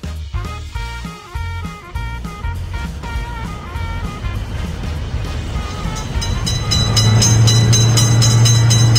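Rumbling train passing in a children's video game, with rhythmic clattering of wheels, growing louder and steadier toward the end, with a synthetic game-like tone over it.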